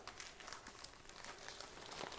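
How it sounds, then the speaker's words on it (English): Tissue paper crinkles softly and quickly up close as it is handled and crumpled, a faint, dry rustle lasting a couple of seconds. "a bit of tissue paper"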